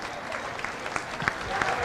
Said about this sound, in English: how about a nice round of applause for Melvin, the spoiler win